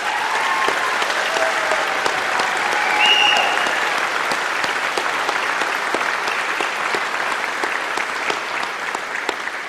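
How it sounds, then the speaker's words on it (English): Graduates and guests applaud at a university convocation for the College of International Studies, a sustained, dense round of clapping from a large crowd that swells briefly and stays steady, with faint cheers mixed in. "now give yourselves a huge round of applause and get ready to celebrate"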